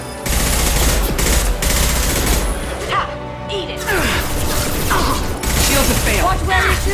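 Gunfire erupts in Mass Effect: Legendary Edition, loud rapid bursts of automatic weapon fire stacking over mechanical clatter, with a brief lull midway before the shooting resumes, while voices shout in the background.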